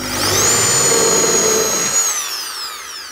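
A power drill pre-drilling holes in wood for workshop drawers, a loud high motor whine that holds steady for about two seconds and then winds down.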